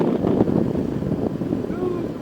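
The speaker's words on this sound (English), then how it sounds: "Wind." Wind roars across the microphone while driving through Poudre Canyon, a continuous low buffeting rumble with gusty swells.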